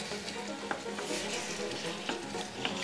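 Scrambled eggs sizzle steadily in a frying pan while a wooden spatula stirs and scrapes them, with soft clicking strokes repeating under the close, even frying hiss.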